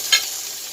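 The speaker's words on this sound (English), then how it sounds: "Now, I'm going to add part of my onions in here." Onions cooking in a hot pan for taco-seasoned chicken over rice give a steady, close sizzle with one brief scrape of stirring near the start.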